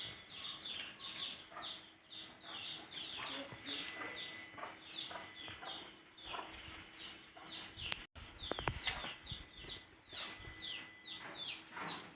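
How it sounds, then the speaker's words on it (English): Chickens in a small Nigerian garden cluck and chatter in quick repeated bursts, fairly faint and continuous, with a brief sharp knock partway through. "Chicken."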